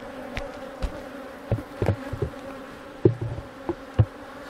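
Honeybees buzzing close up during a hive inspection, a continuous insect drone with individual bees zipping loudly past, set against soft background rustling.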